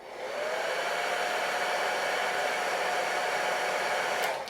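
A hair dryer blows steadily upward from below onto the roots of a man's hair, a loud continuous close whir that fades away at the end, with no talking.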